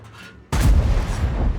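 A heavy tank cannon fires once in the WZ-114 tank game, a sudden loud boom after a quiet moment, followed by a sustained rumbling roar and echo.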